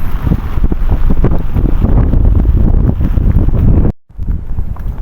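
Strong wind buffeting the microphone with a loud, rumbling roar that drops out abruptly for a moment near the end before returning.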